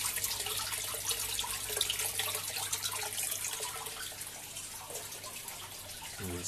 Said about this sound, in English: Nice little bit draining out of the bottle.